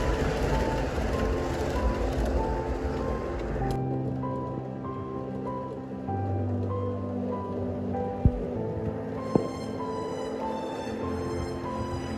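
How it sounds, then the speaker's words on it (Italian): An Italian-Swiss Eurocity passenger train with Swiss coaches, hauled by an E402B locomotive, rolls into a station after crossing the Alps. A steady rumble and hiss gives way to lower drawn-out tones, with a couple of sharp clanks near the end. "Dopo aver attraversato le Alpi, il convoglio entra in stazione nascosta."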